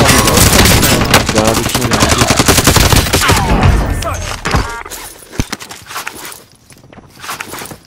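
Rapid automatic weapon fire in Call of Duty: Modern Warfare, dense loud bursts that thin into scattered sharp shots and footsteps, with players talking over the action.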